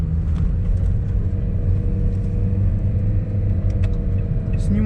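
A car drives through snowy streets of Yakutsk during a snow cyclone, its low engine and road rumble steady and close throughout, with no talking.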